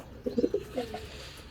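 A racing pigeon coos nearby in a few soft, throaty pulses, followed by a fainter trailing coo over quiet background.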